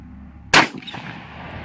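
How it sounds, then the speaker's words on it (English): A single loud, sharp blast from an Adler A-110 shotgun fired outdoors at a Coca-Cola can, followed by a short fading echo in an otherwise quiet setting. "Shoot the Coca-Cola can."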